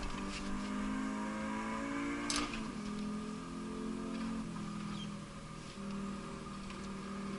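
A race car's engine in Assetto Corsa at the Mugello circuit, revving and pulling through the gears with a steady droning pitch that climbs, dips on a sharp shift or bump mid-way, then climbs again, heard as continuous in-car engine noise.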